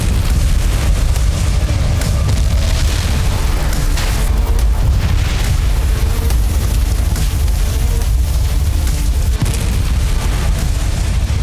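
Dense, continuous roar of missile strike explosions from war footage, with heavy low booms and crackling bursts blending into a loud, unbroken wall of sound.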